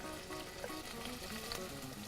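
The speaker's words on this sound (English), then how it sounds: "You want to hear that sizzle when the meat goes in." Venison pieces sizzle in hot olive oil in a pan, a continuous crackling fry with small pops, moderately quiet and close, with no talking.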